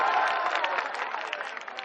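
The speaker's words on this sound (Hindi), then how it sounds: "दो ताली बजाइए" Audience applause at an all-India mushaira poetry recital in Akbarpur, a fairly dense burst of clapping that tapers slightly toward the end, heard alone without speech.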